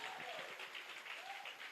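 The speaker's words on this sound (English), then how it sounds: "Can we clap hands for ourselves for looking for so beautiful?" An audience at an ANC Youth League gala dinner applauding, a steady, faint wash of many hands clapping at a distance, with voices underneath.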